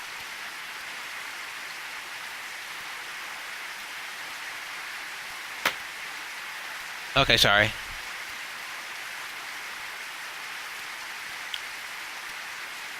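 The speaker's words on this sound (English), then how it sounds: "Rain is nothing but water." Steady, soft rain hisses continuously in the visual novel game Edelweiss, with a short voice heard partway through.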